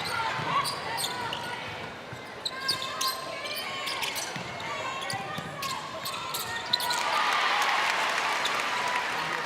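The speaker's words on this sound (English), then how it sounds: "Scotland crowds, you can hear them going absolutely bonkers." Spectators at a Barbados versus Scotland netball match cheer and applaud loudly, the roar swelling near the end, with a ball bouncing and a commentator talking over the crowd.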